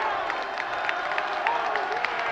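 Gonzaga College High School's student section roars at a championship basketball game against St Frances, a sustained wash of crowd cheering and clapping, dense and continuous with scattered shouts.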